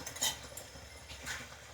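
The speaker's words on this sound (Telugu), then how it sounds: "మిక్స్ చేసేసుకుందాం." A spoon clinks and scrapes softly in a bowl while spicy sweet corn masala is mixed, faint irregular taps close by.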